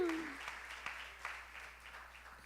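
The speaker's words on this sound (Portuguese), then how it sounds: "Você pode aplaudir a Jesus?" Congregation applauding during an evening Sunday church service, a faint, distant wash of clapping that thins out over a couple of seconds, with a brief tone at the start.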